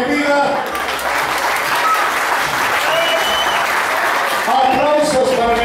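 Karaoke audience applauding steadily for a performer, dense continuous clapping from a crowd, loud and sustained across the whole stretch with a voice briefly over it.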